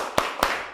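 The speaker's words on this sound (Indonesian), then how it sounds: "Kalau tepuk harimau tahu? Tepuk harimau." Two sharp, close hand claps about a quarter second apart, a group doing the tiger clap routine in a clapping game during a classroom session.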